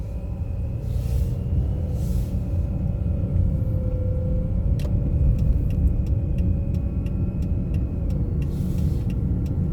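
A car pulls away on a driving-test course with a low, steady engine rumble, while a rapid run of turn-signal ticks sounds in the second half.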